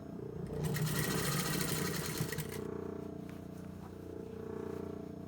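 A sewing machine stitches a shirt cuff to the sleeve of a men's tailored shirt in a fast, close whirring burst that stops after about two seconds, followed by quieter low mechanical hum and faint handling clicks.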